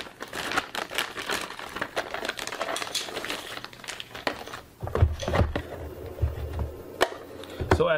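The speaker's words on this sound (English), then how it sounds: "let's unwrap the access point" Packaging of a Netgear WAX610 WiFi 6 AX1800 dual-band access point being unwrapped, with close crinkling and rustling, irregular taps and handling thumps, growing busier and heavier toward the end.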